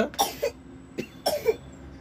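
An elderly woman coughs in two separate bursts, each a cluster of rough, close coughs with a throaty edge, spaced about a second apart with quiet between.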